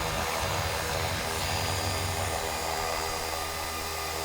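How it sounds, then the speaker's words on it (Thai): An RC model UH-1 Army helicopter, size 450, hovers nearby while turning its nose toward the pilot, giving a continuous high-pitched whine of motor and rotor with a broad, even rushing drone and no pauses. "นดอินก็คือการหัน หัวเฮลิคอปเตอร์มาทางเรานะครับ"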